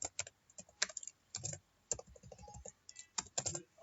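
Someone types on a computer keyboard in short bursts of close, crisp key clicks with brief pauses between them. No one talks.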